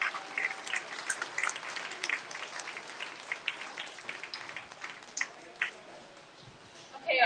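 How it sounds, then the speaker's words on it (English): Crowd at a breeding beef show clapping for kids exhibiting cow-calf pairs, steady moderate applause in an open barn setting with a faint animal call, tapering before a voice returns. "So let's give them a nice round of applause."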